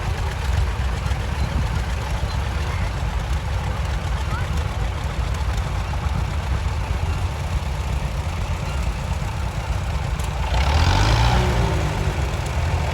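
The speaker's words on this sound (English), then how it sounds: "John Deere B, first John Deere to have 6 forward speeds" A John Deere B tractor runs in a farm days parade, its engine a steady low throb throughout while an announcer talks over it, with another engine rising briefly near the end.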